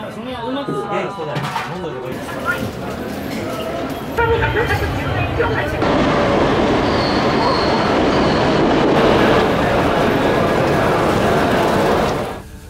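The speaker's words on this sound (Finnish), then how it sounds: "Nyt otettiin Shinkansen juna kohti Hirosakia" Steady rumble and hiss of a Shinkansen bullet train in motion, heard from inside the carriage, growing louder and denser midway before cutting off at the end, with brief voices early on.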